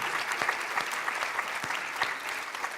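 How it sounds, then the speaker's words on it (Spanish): A crowd claps steadily and enthusiastically throughout a church service, a dense sustained applause from many hands with no pauses. "¿Le podemos dar un aplauso más grande al Ministerio de Alabanza?"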